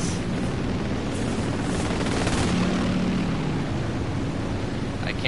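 Aircraft engines and propellers in a World War II flight combat video game featuring an Italian Bf 109, a dense, continuous roar of many planes, loud and steady throughout with no break.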